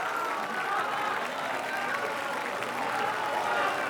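Standing ovation in the Cannes Film Festival theatre for Woody Allen at the Irrational Man premiere, a continuous wash of applause and crowd noise from a large hall, with a voice talking faintly over it.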